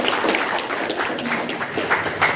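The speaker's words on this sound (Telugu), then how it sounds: "మన సార్ వాళ్ళకి మనందరి తరఫున ఒకసారి క్లాప్స్ కూడా ధన్యవాదాలు తెలియజేస్తాం" An audience claps together at a local gathering, a steady patter of many hands at moderate loudness with a few sharper individual claps.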